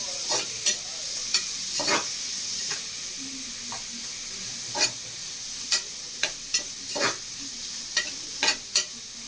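Tomatoes sauté in a pan for one-pot rice under a steady sizzle, with sharp spatula taps and scrapes of stirring landing every second or so, close and fairly loud.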